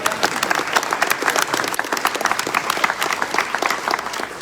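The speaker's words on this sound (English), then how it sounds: "You can clap" Crowd applause fills the room at a Texas GOP primary run-off victory speech, many hands clapping in a brisk, continuous patter, loud and close, with no voice over it.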